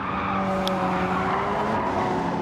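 A sim race car in a league race spins out, its tyres squealing in a long, loud skid over a steady engine drone, with no voices.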